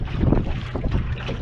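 Wind buffets a small sailboat out on the Camel Estuary, a steady, loud rush with gusty low rumble and water noise around the hull, no voices over it.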